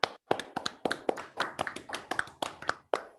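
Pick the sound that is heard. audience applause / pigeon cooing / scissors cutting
audience applause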